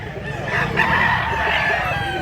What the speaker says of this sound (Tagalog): Naghangit manok mga idol. Daming manok.